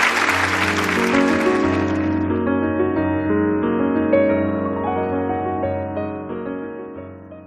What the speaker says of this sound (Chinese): 接下来我们掌声有请。